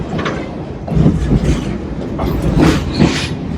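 A Leadville, Colorado railroad train rolls along the tracks, a loud close rumble with rhythmic clickety-clack of wheels over rail joints and occasional brighter metallic squeals, no voices over it.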